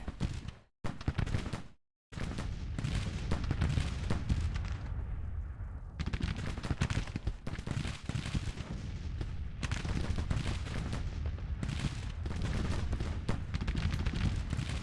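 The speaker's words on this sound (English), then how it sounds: "This is where artillery should be wrecking these fine gentlemen." Continuous battlefield fire in Grand Tactician: The Civil War, a dense crackle of musketry and cannon booms rolling on steadily with short gaps near the start.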